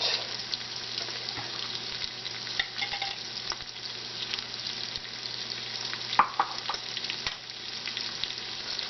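Chopped shallot softening in a hot Instant Pot insert, a quiet steady sizzle with occasional clicks and light stirring scrapes, no talking.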